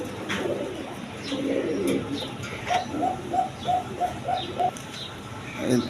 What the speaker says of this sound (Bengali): এখানে শৌখিন কবুতর আছে এখানে ব্ল্যাক ড্যানিস কবুতর আছে